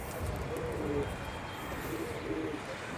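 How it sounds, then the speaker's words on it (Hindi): Pet pigeons in flight, with steady low rumbling and flutter over a continuous outdoor background, moderately loud and without talk. "कबूतर देखो कैसे उड़ते हैं।"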